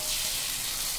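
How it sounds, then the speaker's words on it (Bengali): Chickpeas and egg frying in a pan, giving a dense, even sizzle that holds steady for a brief moment, close by. "ছোলা আর ডিম ভাজা হচ্ছে।"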